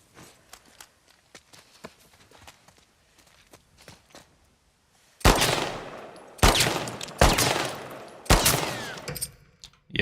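Pistol gunfire in a third-person shooter game under development: four loud, sharp shots spaced about a second apart, preceded by quiet in-game footsteps.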